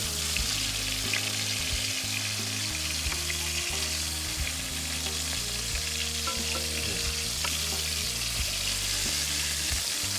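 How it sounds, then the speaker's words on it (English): Fish searing in a hot pan, a loud, steady sizzle running the whole time, heard close and alone without speech. "I'm gonna seal the fish away so the juice stays in the fish."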